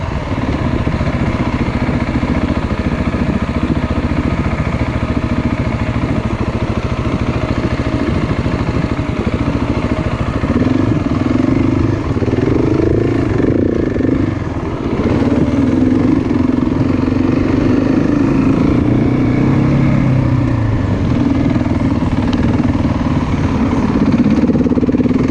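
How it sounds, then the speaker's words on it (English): A motorcycle engine runs steadily during a muddy ride in Enfield, Victoria, holding a loud, close drone and rising in a few revving surges midway. No voices are heard. "I think it's got a Can-Am 300 or something cc engine"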